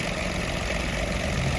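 A car engine idles at tick over, a steady low rumble with a constant hum, moderately loud and close, no voices heard.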